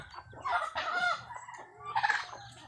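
A mother hen near six newly hatched chicks gives close, fairly quiet clucking calls in two short bursts with a pause between them.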